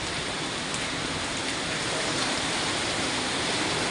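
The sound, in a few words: heavy rain pouring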